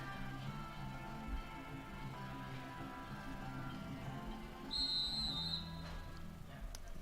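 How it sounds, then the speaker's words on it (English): A referee's whistle at a men's college soccer match gives one sharp, shrill blast of about a second, somewhat distant, over steady crowd and field ambience. "And the whistle sounds as Jeffrey Gulich steps on for the Fleet"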